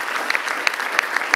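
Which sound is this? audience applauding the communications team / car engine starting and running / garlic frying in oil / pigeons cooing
audience applauding the communications team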